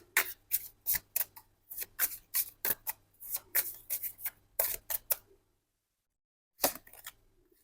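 Tarot cards being shuffled by hand in quick riffling bursts, a run of crisp rapid flicks close up, then a pause and one final short burst, with no talking.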